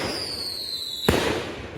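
Independence Day fireworks show: a sharp, loud explosion bursts after a faint whistling rise, followed by a second blast at the end, with crackle filling the air between.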